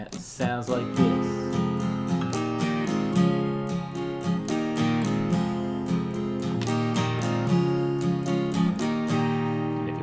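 A strummed acoustic-style guitar playing the rhythm pattern of a song, steady down-and-up strokes ringing close and clear for the whole stretch, with chord changes and no talking.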